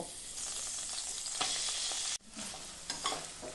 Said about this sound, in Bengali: এখন কেটে রাখা পনিরটাও হালকা করে ভেজে নেব।